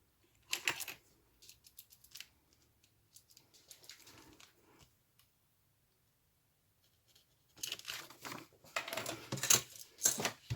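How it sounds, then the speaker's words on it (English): A paper trimmer slicing off a measured strip of paper for a junk journal, heard as quiet scattered clicks and scraping strokes, then a louder burst of cutting and handling noise near the end, with no talking. "I cut it off with my paper trimmer"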